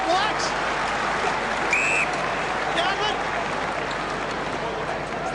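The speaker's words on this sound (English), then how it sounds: "you heard the crowd's reaction applauding that terrific passage of play" Crowd at a 2005 St Kilda versus Richmond Australian football match applauding a passage of play, a broad steady roar of clapping and cheering with occasional whistles, loud and continuous throughout.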